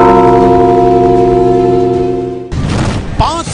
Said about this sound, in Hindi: घंटी बजाओ।